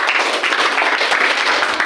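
Classroom applause from students after a group presentation, a steady dense clapping that fills the short moment without a break, fairly loud and close.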